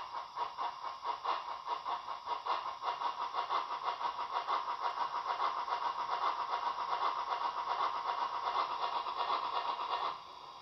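A Märklin Albatros H0 model locomotive's sound decoder plays an engine effect that speeds up, its rhythmic chugging pulses growing steadier and denser before cutting out near the end; no one speaks.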